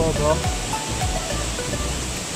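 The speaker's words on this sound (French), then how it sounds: "cette cascade de ouf. Elle est terrible" A huge waterfall, around 30 metres high, roaring as a steady broad wash of rushing water with wind, while a person speaks over it.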